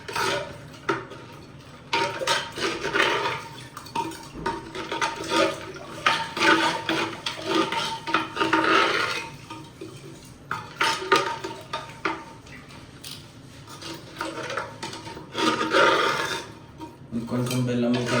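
Homemade chutney being stirred by hand after chilli powder and salt go in, with scraping and clinking against a bowl or pan, steady and fairly close, under a speaking voice throughout.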